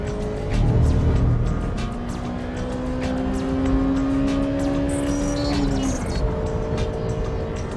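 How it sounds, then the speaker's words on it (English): Honda Civic Type R driven at full throttle on a circuit, a sustained engine note holding high then dropping as the driver lifts, mid-distance, no talk. "I'm going full throttle into the S and the spoon corners."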